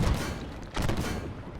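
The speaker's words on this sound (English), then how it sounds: "Get some lovely shots off on that Stingray." Tank cannon fire in the Armored Warfare game, aimed at a Stingray light tank, comes as heavy booming blasts that blend into a dense, continuous rumble of battle noise, loud throughout with no talk.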